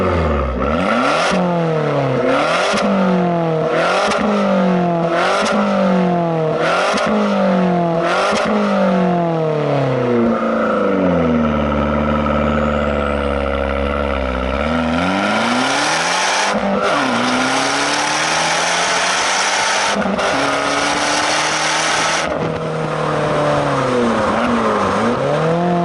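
An Abarth 595 with a passive bypass valve exhaust accelerates hard, its engine note climbing and dropping through repeated rapid gear shifts, then a long rising pull. Loud, close and continuous throughout.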